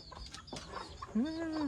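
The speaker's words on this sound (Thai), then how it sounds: "ไก่นี่ไก่เจ้าบ่" A chicken clucks close by in a village yard, a few short calls followed by a rising, drawn-out squawk, with faint voices in the background.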